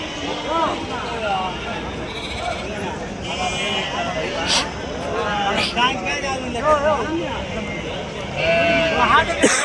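Goats bleat repeatedly amid a crowd of chattering voices at a livestock market in Angallu, their wavering cries rising over steady outdoor babble.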